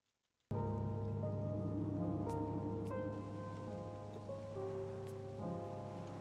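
Rain pouring steadily in a video game, a dense hiss starting abruptly and continuing under sustained musical tones and a few chime-like notes.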